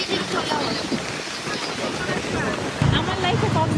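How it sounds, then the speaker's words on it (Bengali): Sea waves at Cox's Bazar beach in rainy weather, a continuous wash of surf with wind buffeting the microphone and a surge near the end. "ঢেউগুলো এমন সমুদ্রের ভয়ানক সৌন্দর্য দেখি নাই"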